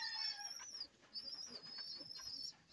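Pigeons in a loft chirp and call in high, sweeping tones, with soft cooing and fluttering beneath, fairly close and steady throughout.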